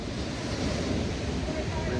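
Ocean surf and gusting wind roar steadily around a swimmer, a loud continuous wash of breaking waves and wind buffeting the microphone.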